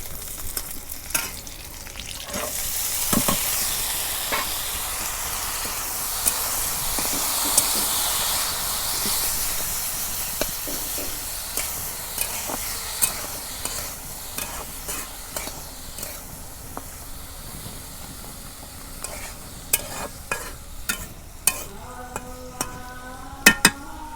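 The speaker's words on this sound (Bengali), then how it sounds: "ভাজুম কাঁচামরিচ পেঁয়াজ রসুন সব আমি দিছি" Green chilies, onion and garlic sizzle in hot oil for a Bangla village-style tempering. A steady close hiss and crackle carries on, with scattered stirring clicks and knocks and no talking.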